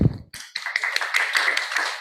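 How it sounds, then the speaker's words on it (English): A conference audience applauds its presenters, a brief burst of scattered hand claps that rises quickly and holds steady for about two seconds, moderately loud and without talk. "Let's applaud them again"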